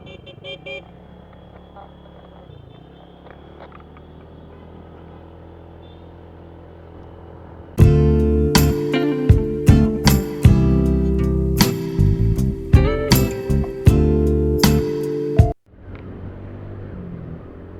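A motorcycle riding off on a road in Laguna, quiet idle at first, then a loud close engine roar with sharp revs and gear changes for several seconds before cutting away to a faint rumble.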